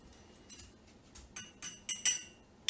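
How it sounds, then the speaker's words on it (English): A spoon clinks against the inside of a teacup while tea is stirred, a handful of light, bright taps coming at irregular intervals and growing louder, heard close up with no talking. "I'm gonna stir the tea."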